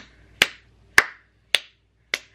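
Four sharp hand claps ring out alone, evenly spaced about half a second apart, close and crisp with short decays and near silence between.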